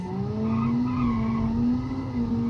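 An all-wheel drive car corners in Automation with a steady engine drone and a sustained tire skid, loud and close, with no talk.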